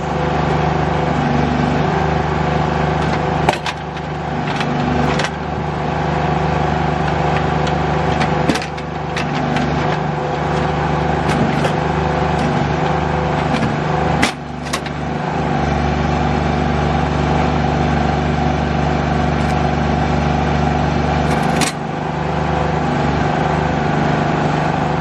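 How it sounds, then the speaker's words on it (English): A backhoe's diesel engine runs steadily at close range for the whole stretch, a constant loud drone broken by a few brief clunks and rev changes, with no talk. "I'm going to go get the backhoe"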